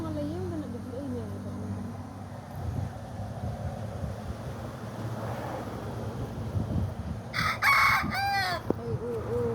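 A rooster crows in an outdoor setting beside a lizard, its call rising clearly near the end over steady background rustle and wind noise, with voices talking throughout.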